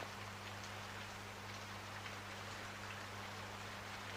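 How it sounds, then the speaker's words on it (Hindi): Rain falls steadily in a soft, even hiss, faint and continuous, with a low electrical hum underneath and no voices. "वाओ, व्हाट बारिश।"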